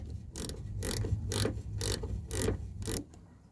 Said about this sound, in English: now we've just got to tighten this 8mm bolt